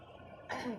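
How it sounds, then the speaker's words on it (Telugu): A single short, faint cough or throat-clear, heard up close. "దగ్గు వస్తుందండి పొరబోతాను"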